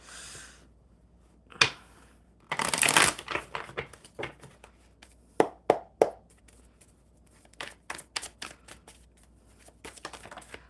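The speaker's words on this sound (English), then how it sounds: "One more good shuffle for Lizzie." Tarot cards are shuffled by hand in quick bursts of riffling and sharp snapping slaps, with brief pauses between, close and fairly loud.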